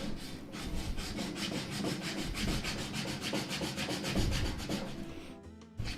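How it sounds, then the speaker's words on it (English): Fast, even back-and-forth scratching of sandpaper on the wood of a folding tray table, close up and continuous, stopping abruptly near the end. "you end up sanding everything."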